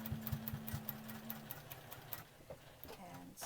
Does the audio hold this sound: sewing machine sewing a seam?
yes